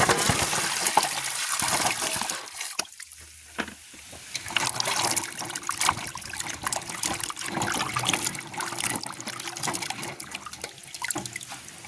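Water trickling and splashing during washing in a village home, close and fairly loud, with irregular drips, gushes and clinks continuing throughout.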